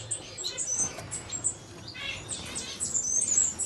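Four Cuban grassquits in an aviary cage in Belgium give thin, high chirps and tweets, scattered and fairly faint, with soft rustling and fluttering between calls.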